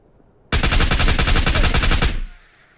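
Sustained automatic gunfire in the video game Ghosts of Tabor, a loud rapid burst of about a second and a half that cuts off sharply, with no talk over it.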